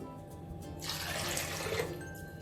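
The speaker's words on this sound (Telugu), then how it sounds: "మనం తీసుకున్న కప్పుతో ఒక 2 కప్పుల నీళ్లు వేయాలి" Water poured onto washed chana dal in a bowl, a brief steady rushing pour in the middle of a quiet moment, no talking.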